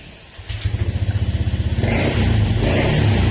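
A motorcycle engine runs close by after a cold start, a rapid, pulsing putter that steadies into a continuous rumbling idle, loud and alone.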